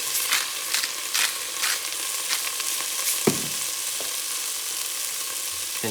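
Garlic and salt sizzle steadily in a hot pan for a vegan casserole, a bright continuous hiss broken by several scraping stirs and a sharper clack of the utensil partway through.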